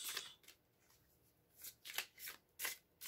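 Chosen Tarot cards shuffle in several short bursts of crisp, papery riffling, close and fairly quiet, separated by brief pauses.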